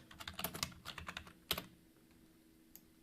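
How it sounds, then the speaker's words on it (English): Someone types a full name on a computer keyboard, with a quick cluster of close, crisp key clicks, one sharp final tap, then quiet. "Why don't you go ahead and type in your full name?"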